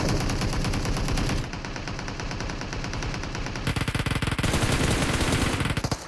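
Gunfire in the mobile battle royale game PUBG Mobile, with dense rapid automatic bursts, loud and continuous, shifting to sharper, distinct rattling rounds toward the end; no voices.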